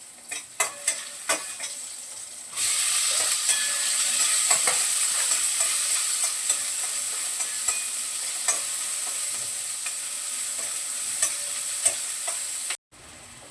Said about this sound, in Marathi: कढीपत्ता आणि कांदा एकत्र परतवून घेते